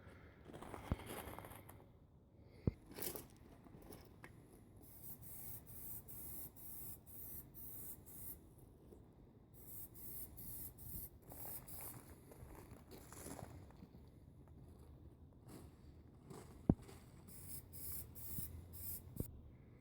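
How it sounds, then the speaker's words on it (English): Plasti Dip sprayed from an aerosol can onto the rear hatch of a 1994 Subaru Legacy Turbo wagon, heard as repeated hissing bursts of varying length with short pauses and small clicks between them, close and alone. "I wanted to also Plasti dip the inside lining of it"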